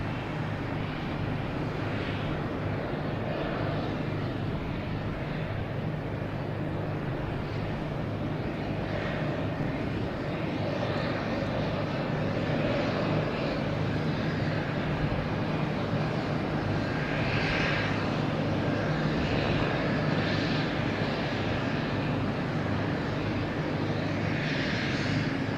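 A Southwest Boeing 737 airliner at Boston Logan Airport makes a loud, continuous jet engine roar that holds steady and close throughout, with a broad rushing wash and some wind buffeting on the microphone.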